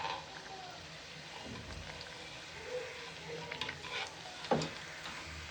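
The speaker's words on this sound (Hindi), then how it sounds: "बाकी की भी टिक्कियाँ इसी तरह से फ्राई करेंगे।" Meethi tikki, a sweet crispy snack, frying in hot oil in a home kitchen, a faint steady sizzle with a few soft clinks and stirring sounds, no talk.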